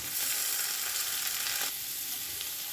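Carrots and spring onions fry in a pan for a Bengali mixed vegetable dish, giving a loud, even, continuous sizzle with little variation and no stirring strokes standing out.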